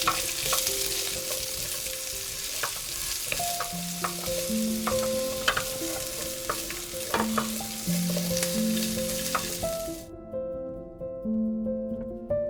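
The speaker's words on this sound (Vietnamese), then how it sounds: "Mở lửa trung bình, đảo đều trong khoảng 1 phút." Onion and bell pepper sizzle steadily in a hot pan over medium heat while a utensil scrapes and stirs, with soft music playing underneath; the sizzling stops abruptly near the end.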